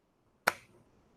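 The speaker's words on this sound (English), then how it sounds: "So we're gonna do the clap now." A single sharp hand clap made to sync podcast audio, a crisp close transient after a moment of near silence, followed by a short faint room decay.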